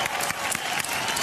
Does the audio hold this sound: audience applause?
yes